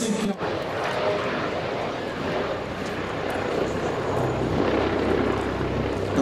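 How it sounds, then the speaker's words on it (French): Airbus H145 helicopter of the Sécurité Civile arriving at a base rescue and firefighting demonstration, a steady, loud rotor and turbine roar over a crowd murmur. "Arrive un nouvel acteur, l'hélicoptère"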